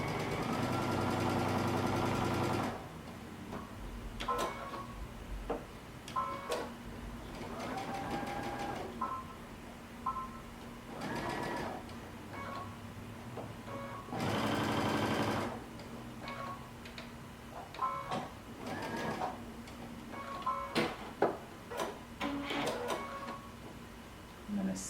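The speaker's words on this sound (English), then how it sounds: "We're going to sew this all the way around, leaving a 1-inch opening so that we can turn this right side out." A domestic sewing machine runs in bursts of rapid stitching around the edge of a fabric cape, with pauses filled by soft clicks and handling; a long run at the start and shorter runs later.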